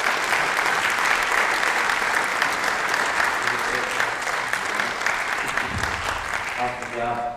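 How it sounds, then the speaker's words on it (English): Sustained audience applause at a chiropractic weight-loss challenge event as a doctor walks up to present, a dense, steady clapping from a large crowd lasting throughout, with a little cheering near the end. "a round of applause as he comes up here"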